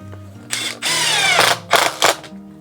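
Cordless power driver sinking screws into wood while assembling a wall-mounted lumber rack, several whirring bursts of varying length with rising pitch, separated by short pauses, close and loud.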